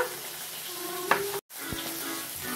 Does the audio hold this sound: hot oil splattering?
yes